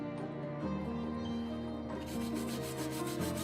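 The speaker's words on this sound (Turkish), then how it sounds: "Çeşitli tel fırçaları matkap ucuna taktık." A drill-mounted wire brush grinds and rubs rust off an old clothes iron, a continuous harsh whirring scrape with shifting pitch as pressure changes.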